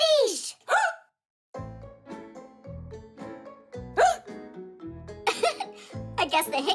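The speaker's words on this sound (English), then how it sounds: "I guess the hiccups are contagious." A cartoon character hiccups in a kids' animated show: sharp, squeaky hiccups recur among bursts of cartoon voices and music, loud and close, with a short silent gap early on.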